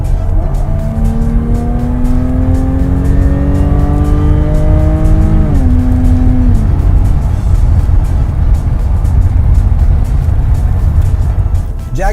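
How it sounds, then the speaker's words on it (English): A Jaguar F-Type sports car in dynamic mode roars close and loud, its engine note climbing steadily through several revving pulls before dropping off into a sustained rumbling idle. "when you press the dynamic mode, the sound in the back changes to a roaring Jaguar"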